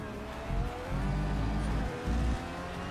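In Project Cars 3, a race car crashes and skids with rumbling engine and scraping bursts, low thuds coming in uneven pulses at moderate volume.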